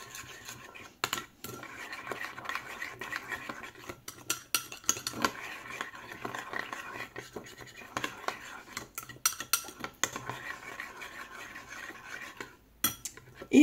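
A utensil mixing sandwich filling with garlic and semolina in a bowl, giving repeated scraping and clinking strokes against the bowl that carry on steadily, close and fairly quiet.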